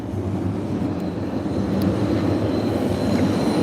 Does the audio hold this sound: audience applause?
no